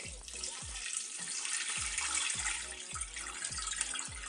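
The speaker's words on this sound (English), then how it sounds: "I'm gonna mix the bones with either filtered water or spring water." Water pours steadily into a pot of raw wild venison bones for broth, a continuous splashing rush punctuated by a series of low, regular thumps.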